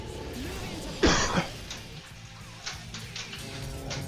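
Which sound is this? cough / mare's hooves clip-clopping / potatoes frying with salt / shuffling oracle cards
cough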